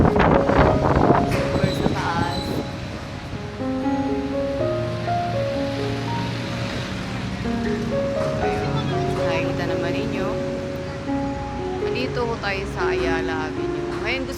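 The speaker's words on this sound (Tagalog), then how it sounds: "Masyadong mahangin." Strong wind roars and buffets steadily against the microphone outdoors among tall buildings in Ayala, Makati City, with faint distant traffic beneath.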